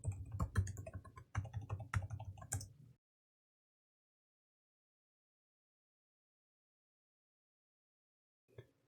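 A password is typed on a computer keyboard, a brisk run of close clicking keystrokes lasting about three seconds, then silence until one faint key press near the end.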